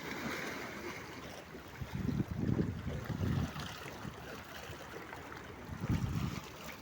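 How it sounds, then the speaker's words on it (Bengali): Sea waves breaking against a rocky shore as the tide rises, a steady wash of surf with a few louder surges, mixed with wind buffeting the microphone. "এই যে দেখছেন কি এক এক ঢেউ মারছেন"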